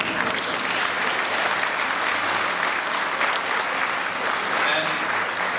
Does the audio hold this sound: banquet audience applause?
yes